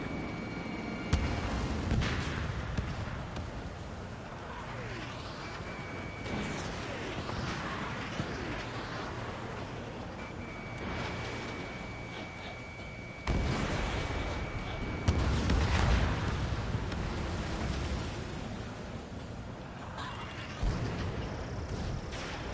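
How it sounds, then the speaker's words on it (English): Missile launches and explosive bursts from the Ace Combat 7 combat flight game, a loud continuous roar of jet and weapon noise with repeated heavy booms, radio chatter voices over the top. "Golem 2, missile! Mage 2, missile launch."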